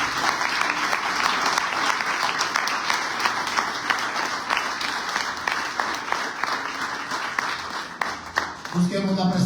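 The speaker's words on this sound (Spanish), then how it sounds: "Denle un aplauso al Señor si usted puede hacerlo." A church congregation applauds at a Sunday service, dense sustained clapping filling the room for several seconds, with a few voices calling out near the end.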